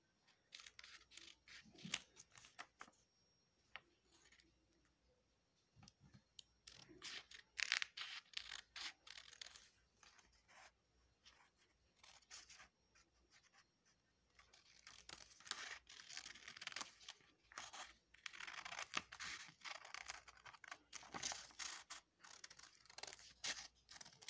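Scissors snipping through folded paper, a series of crisp close cuts in irregular bursts with quiet pauses between, growing busier and denser in the second half, with no talking.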